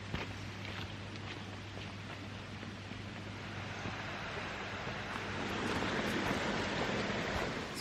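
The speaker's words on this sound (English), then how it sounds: "in the distance you can hear a much bigger waterfall" A waterfall far off in woodland makes a constant broad rush, with a faint trickle of water nearby. The sound is steady and swells a little toward the end, and no one speaks.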